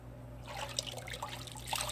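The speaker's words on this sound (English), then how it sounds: "Okay, so I'm gonna go ahead and rinse that off." Water runs and trickles while soap is rinsed from a sponge or cleansing cloth, a soft splashy stream starting after a brief quiet moment, close and faint with no voices.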